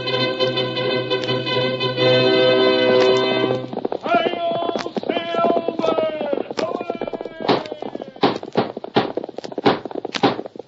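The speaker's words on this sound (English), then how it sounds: "Fiery horse with the speed of light, a cloud of dust" Galloping horse hooves in the 1938 Lone Ranger radio drama, a fast rhythmic clatter that takes over from a sustained musical fanfare and keeps beating loud and close, with an announcer's voice over it.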